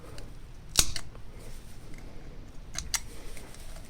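Sharp scissor snips trim fly-tying material while tying a Lefty Deceiver streamer fly, a crisp cut near the start and a pair of quick snips later, close and distinct against a quiet room.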